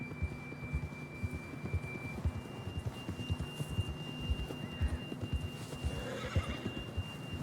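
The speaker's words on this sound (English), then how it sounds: "John was riding that horse when we left Blackwater." Horse whinnies and gallops in the open-world Western video game Red Dead Redemption 2, hooves pounding in a steady, rapid rhythm under a constant low game-world hum, with a neigh rising near the end.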